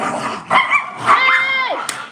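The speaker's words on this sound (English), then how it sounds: "it's got a dog fight going on" Two dogs scuffle in a brief, loud burst of yips, whines and barks, with a person shouting over the noise.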